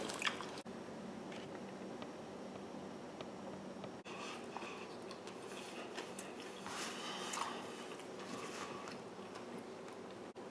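Faint, wet, close-up chewing of a bacon, lettuce and mayo sandwich, with soft squishy mouth sounds and small crunches repeating irregularly, heard alone with no talk.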